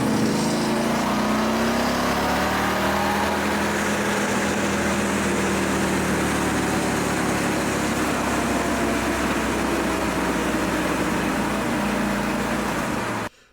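Car engine during a break-in procedure, revving up in hard bursts and easing back down, a loud continuous close-up drone with rising and falling pitch, no talking.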